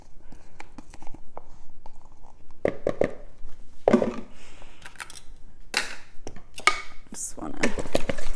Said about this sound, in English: just gonna mix it together